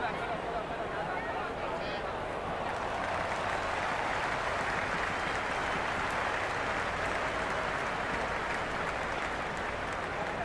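Stadium crowd noise from a Cricket 26 IPL match between CSK and PBKS, a steady dense roar of cheering and applause from the stands that holds loud and unbroken throughout.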